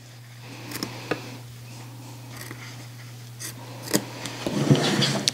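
Quiet, scattered snips of scissors cutting through fabric, a few sharp clicks spaced apart with a steady low hum underneath and no talking.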